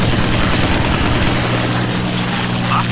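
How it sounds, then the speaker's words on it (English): Loud, droning propeller engine roar from JU-87 dive bombers in the World War II flight game Combat Wings: Battle of Britain, a dense continuous thrum filling the whole moment. "Shoot down the enemy JU-87 dive bombers."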